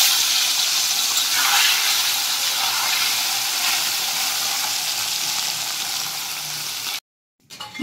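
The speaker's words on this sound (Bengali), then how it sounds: "সমস্ত মাছ আমি ভেজে নেব এইভাবে" Bata fish frying in hot oil for a fish curry, a steady loud bright sizzle running continuously for about seven seconds before cutting to near silence.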